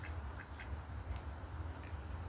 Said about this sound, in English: I wonder if these two ducks are on a date